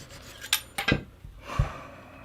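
A Lansky knife sharpener stone is drawn across a blade edge: a few short, quiet scraping strokes with thin metallic rasps and soft pauses between them.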